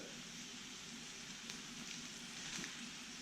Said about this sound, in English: Just going to grab a stick of butter and drop some over here on this left side to toast my bread